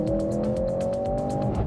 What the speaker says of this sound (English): Step on the throttle,